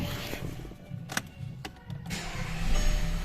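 A 2010 Skoda Superb 1.8 TSI petrol engine cranks briefly and catches after its injectors have been cleaned, a short close starter whir rising into a steady running hum.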